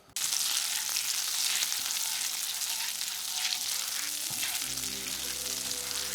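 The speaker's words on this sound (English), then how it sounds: "We're gonna go ahead and let this butter get a little bit caramelized, so you want it to completely melt down, and then we're just gonna let it simmer just a bit." Butter melts and simmers in a pan for a keto butter pecan cheesecake, giving a steady close sizzle and crackle with no one talking; a low hum joins in toward the end.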